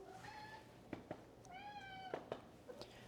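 A domestic cat meows twice at close range, each a clear drawn-out call with a short gap between, with a few soft knocks and clicks around them.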